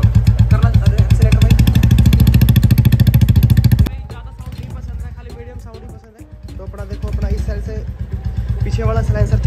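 Royal Enfield Bullet 350 from 2023 fitted with a short bottom silencer, a loud close thumping single-cylinder beat at a fast rev, then dropping to a slower lumpy idle before revving back up, with someone talking over it.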